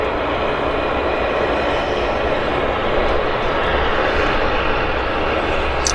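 A Q400 turboprop airliner at Vancouver Airport roars steadily and loudly for the whole stretch, a dense, unbroken engine drone with no pauses.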